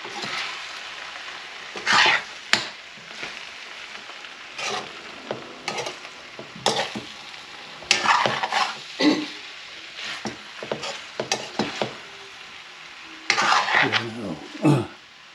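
Ground pork and potatoes sizzle in a frying pan while a spatula stirs and scrapes in repeated bursts, close and fairly loud, with clinks against the pan.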